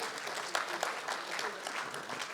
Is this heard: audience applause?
yes